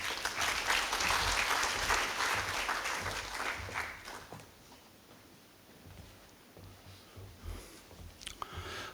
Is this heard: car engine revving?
no